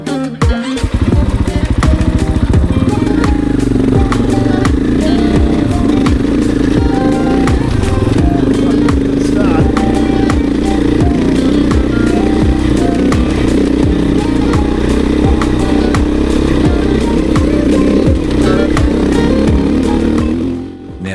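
Adventure motorcycles climb a zigzag gravel track in Otago, their engines droning loud and steady throughout with rough, rumbling throttle and clattering over the terrain, close and continuous without talk.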